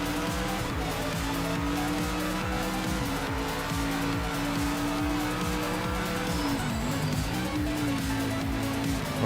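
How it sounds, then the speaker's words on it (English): A race car in the Project Motor Racing sim holds a steady, loud engine drone that dips in pitch as it brakes hard into a corner, with a brief tyre squeal near the end. "Braked way too early right there."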